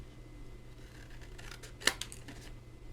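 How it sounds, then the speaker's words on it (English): Scissors snip the corners off a sheet of cardstock: a quiet, crisp cut followed by a second smaller snip against faint room noise. "So we are going to cut our corners off"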